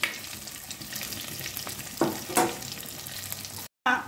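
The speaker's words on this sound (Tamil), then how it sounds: "இது கொஞ்சம் வெங்காயம் நல்லா வதக்க விடணும்." Onions sautéing in oil in a pan, a steady close sizzle with a couple of stirring scrapes and a brief cut near the end, no talking.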